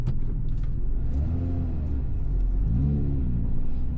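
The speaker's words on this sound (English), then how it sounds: "I like the induction sound from the supercharger" Supercharged Lotus Emira engine rising and falling through revs, a close, loud rumbling drone with swelling pitch sweeps under a steady whir of induction noise, no talking.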